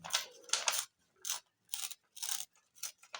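Paper is torn by hand in several short bursts of crisp ripping, each followed by a brief silence, close and fairly quiet.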